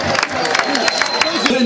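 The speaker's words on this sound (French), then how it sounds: "Est-ce qu'on peut applaudir?" Audience applause and cheering at an outdoor festival prize ceremony, a dense crowd wash of clapping with voices and music mixed under it, steady and fairly loud throughout.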